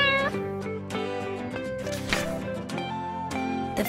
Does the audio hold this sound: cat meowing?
yes